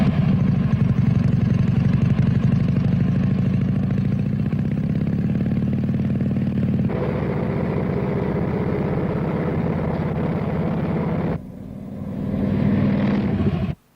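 A motorcycle ridden in a 1960 test, engine roaring steadily and loud for most of the stretch, shifting tone partway through before dropping off and revving back up near the end.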